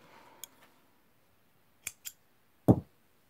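Scissors snip through crochet yarn while finishing a buttonhole on a crocheted cardigan, giving a few sharp, close clicks: one small snap, then a quick pair, then a louder final cut, all in an otherwise quiet room.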